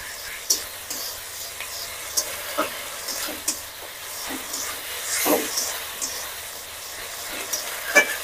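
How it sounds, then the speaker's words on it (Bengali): Ginger, garlic and onion paste frying in a pan, with a soft low sizzle broken by sharp intermittent stirring scrapes and clinks, fairly faint and close. "আদা রসুন পেঁয়াজ বাটা, এইগুলো ভালো করে একসঙ্গে ভেজে নেবো।"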